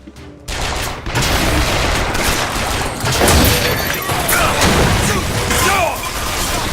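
Loud, continuous turret gunfire in BioShock Infinite, a dense rattle of rapid shots and mechanical clatter that starts abruptly and holds for several seconds amid booms and crashes.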